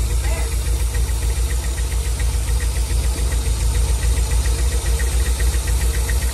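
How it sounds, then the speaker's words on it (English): Engine of a 1991 Nissan 240SX idling roughly with an air leak and misfire, a loud, close, uneven pulsing knock repeating steadily throughout, with a hissing edge over the chugging rhythm. "Oh yeah, there's an air leak."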